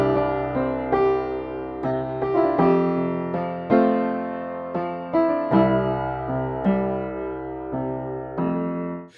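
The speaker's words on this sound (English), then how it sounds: "it's called Upright Piano by Audiolatry" Upright Piano software instrument by Audiolatry plays a short melodic passage alone, with clear repeated note attacks and chords that ring and decay at a moderate, steady level.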